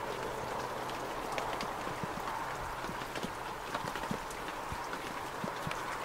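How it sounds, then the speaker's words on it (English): Light rain falling outdoors on an evening street in New Zealand, soft steady patter with scattered sharper drips against a low background hum, no talking. "standing here and listening to the rain."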